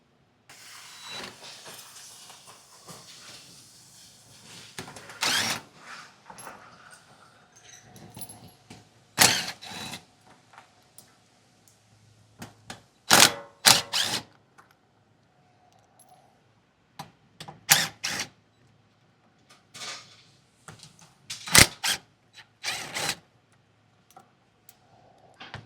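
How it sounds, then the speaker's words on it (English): A 10mm socket ratchet backs out the skid plate bolts and metal washers beneath a Kawasaki Ridge CREW side-by-side, giving bursts of sharp ticking clicks and small metallic rattles separated by quiet pauses. "I'll use our 10mm socket and remove the first and second row of fasteners"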